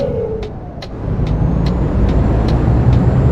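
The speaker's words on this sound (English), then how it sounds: "Gearbox on these records sound noisy as hell" In Euro Truck Simulator 2, a truck's air-shifted gearbox changes gear with a sharp hiss of air over a loud, close engine drone. A series of short clicks ticks along in the background.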